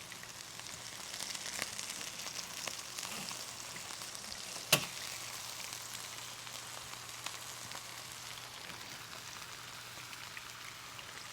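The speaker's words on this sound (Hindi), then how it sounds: "इसको आपने खूब मज़ेदार फुली कुक करनी है चारों तरफ से, फिर जाके आपकी कबाब बहुत मज़े की बनेगी" Kebabs fry in a pan, giving a steady, fairly soft crackling sizzle throughout, broken once by a brief sharp tick of utensil contact.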